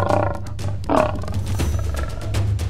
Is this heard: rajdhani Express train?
no